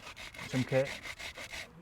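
A porous pumice stone rubs rhythmically along a wooden shaft, smoothing it with a series of even rasping strokes up close, while someone talks briefly over the start.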